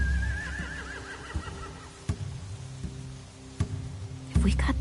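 A horse gives a loud, wavering whinny near the start, followed by scattered thumps, stamps and rustles of horses moving nearby in a quiet setting.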